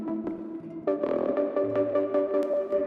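A synthesizer preset sounds a short, warm chordal phrase with layered sustained tones and a few soft accented swells, close and clean with no voices.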